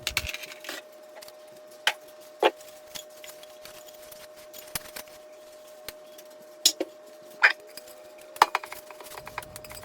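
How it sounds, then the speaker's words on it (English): Dishes being dried and put away in a small apartment kitchen, with sparse light clinks and knocks of crockery and cutlery spread out over a quiet background with a steady faint hum. "I'm just drying up the dishes and putting everything away"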